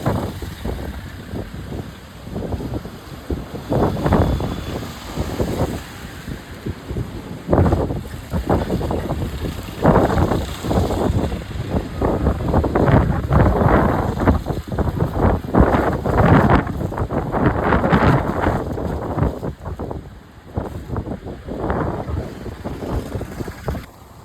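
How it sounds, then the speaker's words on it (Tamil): Strong cyclone winds buffet the microphone at the Pamban sea bridge, a gusty, roaring rumble that swells and fades in uneven bursts over the sea, loud and close without speech. "சரியான காத்துங்க."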